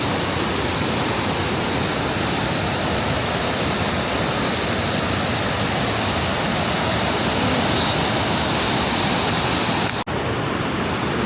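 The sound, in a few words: rushing water at Niagara Falls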